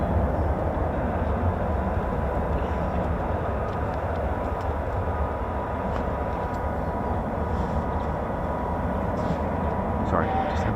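Military fighter jet, an F-15 or F-35, taxiing at RAF Lakenheath, giving a steady, broad engine rumble and whine at moderate distance that holds through the clip, with a voice talking over it.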